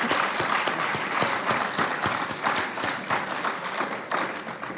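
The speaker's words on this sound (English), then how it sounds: "let us give him a lusty round of applause" An audience at a distinguished lecture series gives a hearty round of applause after the talk, steady close clapping from many hands that swells and fades slightly over a few seconds.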